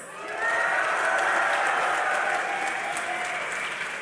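An esports crowd at a DreamHack Winter 2012 grand final cheers and applauds loudly for Fnatic, a dense, sustained roar of clapping and shouting that swells in within half a second and holds steady to the end.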